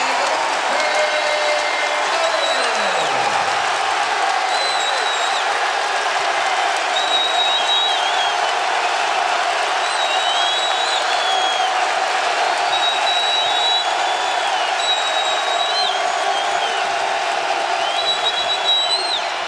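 Sustained roar of a college basketball arena crowd cheering and applauding at a North Carolina vs Tennessee game, a dense continuous wash with scattered whistles and whoops cutting through, loud and unbroken throughout.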